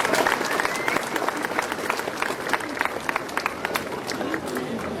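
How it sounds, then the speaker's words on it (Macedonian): An audience applauds at a graduates' parade, a municipal event in Probištip, with sustained clapping from a crowd at moderate distance and voices beneath. "Може ли со еден громогласен аплауз да поздравиме оваа прекрасна манифестација?"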